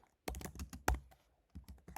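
A computer keyboard clicks as code is typed, short irregular bursts of close keystrokes with a sharper single thump midway and brief pauses between taps.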